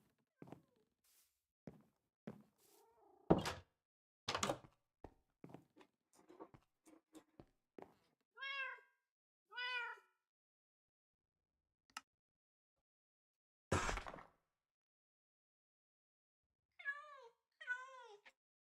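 Cats meowing indoors, several distinct short meows in pairs with rising-falling pitch, close and clear, scattered among tapping and handling noises in an otherwise quiet room.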